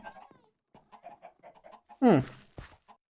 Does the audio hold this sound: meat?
no